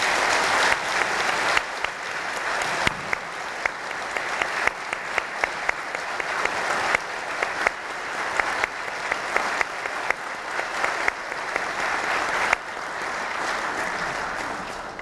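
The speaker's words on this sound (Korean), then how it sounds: "생존해 계신 두 분의 애국지사분들께 큰 박수 좀 보내주시기 바랍니다" Audience at a Korean March 1st Independence Movement Day ceremony applauds two surviving independence activists, sustained steady clapping from a large crowd filling the room throughout.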